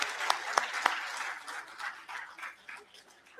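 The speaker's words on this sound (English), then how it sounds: "Can we clap for our parents and grandparents?" School audience applause at an award celebration, opening with a few sharp, close claps and then settling into a softer, thinning round of clapping that fades and swells.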